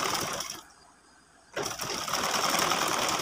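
A sewing machine stitches sleeve fabric onto a dress, running in a fast steady whir, pausing briefly, then starting up again close by.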